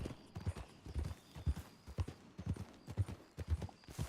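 Horse hooves in a Western video game clip-clop in a steady, even trot, close and moderately loud, with no speech over them.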